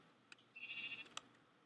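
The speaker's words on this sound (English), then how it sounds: "No, sheep, no!" A Minecraft sheep bleats once in a short wavering cry, quiet and alone, framed by a couple of faint clicks.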